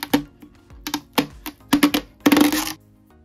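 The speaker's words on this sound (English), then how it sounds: "Next, we'll remove the silicone cover by peeling it off." Silicone cover being peeled off a JBL PartyBox Club 120 speaker during a teardown, heard as a string of close, dry ticks and taps that bunch into a denser crackly burst near the end.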